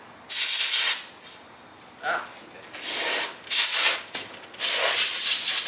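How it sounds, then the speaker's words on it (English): Several sharp hissing bursts from an aerosol spray cleaner can, some long and some short, with brief pauses and a quick spoken remark between them. "this is to clean it off so it looks neat, especially since I'm spraying it"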